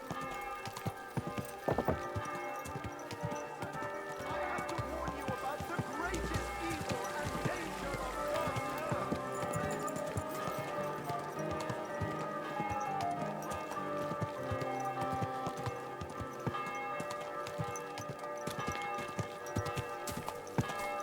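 Horse hooves clip-clop at a steady gallop in a video game, with hoofbeats moderately loud over a layer of sustained background music and occasional voices.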